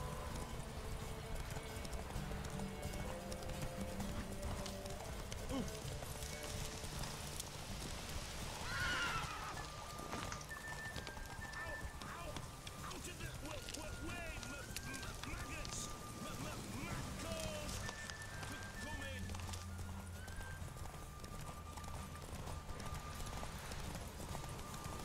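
Roach the horse runs in The Witcher 3, a continuous patter of hooves under dense game music, with a neigh-like cry around the middle and a voice talking over parts of it.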